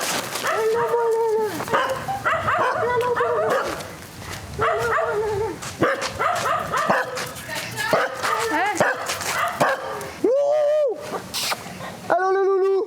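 A small street dog barks and yips repeatedly in short bursts, with people talking over and between the barks.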